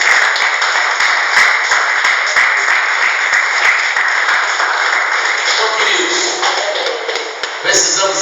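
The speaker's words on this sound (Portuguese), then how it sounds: "Bem forte as palmas para Jesus." A church congregation claps hard and steadily through a morning consecration service, the dense applause sustained and close before thinning near the end, with a voice and a few sharp taps showing through at the close.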